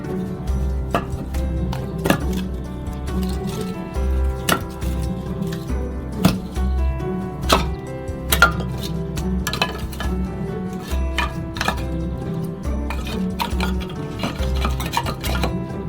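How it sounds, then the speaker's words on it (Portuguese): Firewood logs being placed into a pizza oven make repeated hard knocks and clunks over a steady low background rumble. "Colocamos a lenha."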